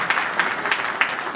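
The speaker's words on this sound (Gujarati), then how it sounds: "જોરદાર તાળીઓ." Applause from a crowd at a family community gathering, a short burst of loud clapping with a few sharper claps standing out.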